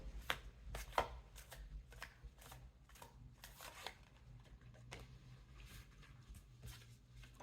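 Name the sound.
tarot cards being shuffled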